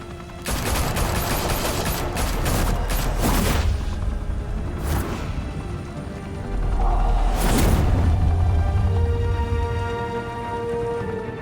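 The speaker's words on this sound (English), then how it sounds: "Open fire!" Gunfire from a firefight in the Telltale Batman series set in Gotham, with loud rapid volleys and sharp bursts repeating across the scene, some sustained rumbling between shots, no talking.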